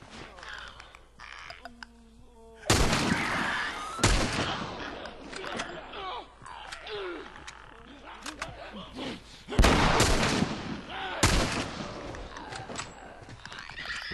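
Hunting rifle shots ring out in The Last of Us video game: two pairs of loud, sharp blasts with rolling echoes, set against game ambience and brief voices.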